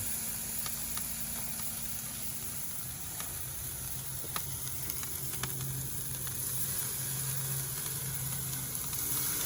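Marinated pork tenderloin sizzles faintly over direct heat on a Big Green Egg grill, a soft steady crackle with occasional small pops and a low background hum.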